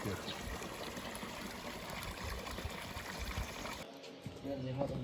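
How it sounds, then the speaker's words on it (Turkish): Spring water at a picnic area flows in a steady soft trickle, faint and continuous, with a voice talking over it near the end. "Suyumuz da böyle akıyor."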